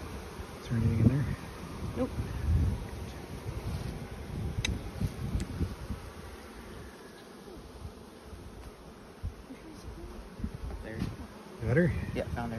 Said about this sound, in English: There's just about gobs of bees now.